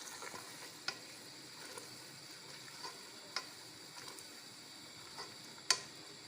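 Tomato paste with red masala sizzles and fries in a pan for Sindhi masala chicken, a steady soft crackle broken by occasional sharper ticks and spatters.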